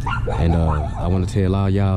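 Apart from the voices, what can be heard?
dog barking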